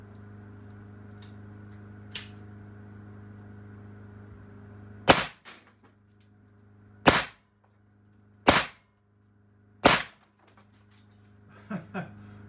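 An AEA BinTac BW S45 .357 air rifle fires into wood: four sharp, loud, close cracks spaced about one to two seconds apart over a low steady hum, with faint clicks and handling noise between shots.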